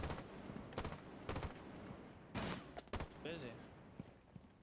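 Rainbow Six Siege gunfire played on a controller: several sharp bursts of shots, some rapid, scattered through the stretch, with a player talking briefly in between.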